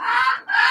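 A rooster lets out a short, loud, close cluck in two quick bursts with a brief break between them.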